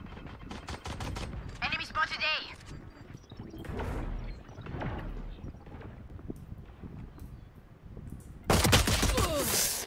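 Gunfire in the shooter game Valorant during an unranked match, heard as a few sharp cracks and then a loud dense burst near the end, with someone talking excitedly over the game sounds.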